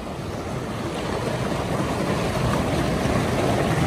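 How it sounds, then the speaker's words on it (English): Open river water rushing and lapping under steady gusting wind that buffets the microphone, a dense continuous roar with no voices. "I am on the river."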